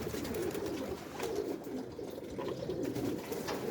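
Arap dolapçı tumbler pigeon cooing steadily at close range, soft repeated low coos with a few brief chirps, no talk.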